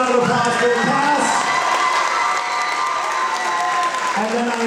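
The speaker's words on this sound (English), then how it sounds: "another big round of applause for the cast" An audience claps and cheers for the cast of a school production of Pirates of Penzance, with children shouting over loud, continuous applause and voices chattering throughout.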